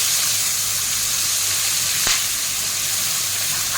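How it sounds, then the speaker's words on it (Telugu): Ginger garlic paste frying in hot oil for a chicken curry gives a steady, loud, close sizzle and hiss with no break, plus one brief crackle near the middle. "సరిపడా అల్లం వెల్లుల్లి పేస్ట్ వేస్తున్నాము ఇది కూడా మనము పచ్చివాసం పోయేలాగా ఫ్రై చేసుకోవాలి"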